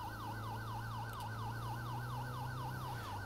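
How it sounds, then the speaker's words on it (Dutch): Ambulance siren from a Belgian MUG emergency vehicle in GTA 5, wailing in a steady repeating up-and-down sweep, loud and close over a low engine drone throughout, with no talking. "Ik hoor de sirenes alweer hoor."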